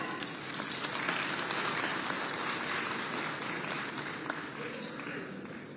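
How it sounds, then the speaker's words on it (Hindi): Loud applause from an audience at a public event, a dense wave of many hands clapping that swells near the start and slowly eases off over several seconds. "जोरदार करताली होउवा दरकार।"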